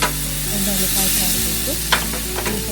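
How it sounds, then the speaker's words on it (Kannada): Paneer shallow fries in a pan for a pepper paneer dish, giving a loud, steady sizzle and hiss close up, broken by a few quick scraping knocks near the end. "ಡೀಪ್ ಫ್ರೈ ಮಾಡಬೇಕಂತಿಲ್ಲ ಶಾಲೋ ಫ್ರೈ ಮಾಡಬೇಕು"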